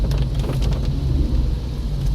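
A heavy daytime rainstorm in southern New York, with dense steady rain and a deep continuous rumble of thunder underneath, loud and close with no talking.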